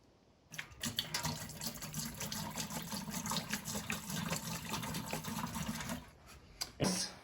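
Liquid pours steadily down a household drain for several seconds, a close gurgling rush that stops abruptly, followed by a brief splash.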